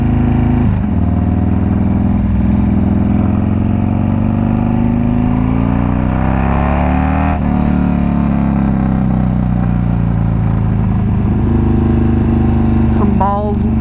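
Harley Davidson Dyna motorcycle engine droning loudly and steadily while riding, with pitch rising and falling as it revs under wind noise.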